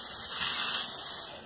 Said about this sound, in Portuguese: Pintando aqui com a tinta spray